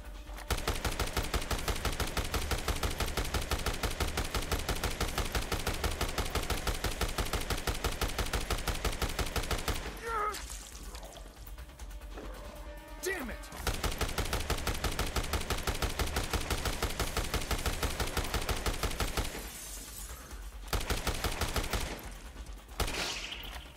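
Rapid, sustained machine gun fire in Dead Rising Deluxe Remaster, long unbroken bursts at steady close range, dropping out briefly twice before resuming.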